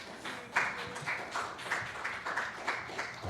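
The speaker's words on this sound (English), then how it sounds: "Let's give the Lord a hand clap of praise." A small congregation gives the Lord a hand clap of praise at an evening church meeting, steady rhythmic clapping at a moderate distance, a little faint, with each clap spaced regularly and no talking.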